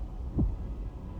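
Heartbeat sound effect in the Honkai: Star Rail video game, a single deep, low thump over a quiet hum, faint and alone.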